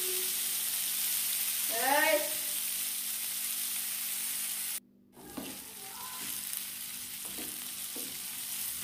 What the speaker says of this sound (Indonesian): di sini saya akan tumis dulu bumbu yang tadi sudah kita haluskan ya. Kita tumis sampai harum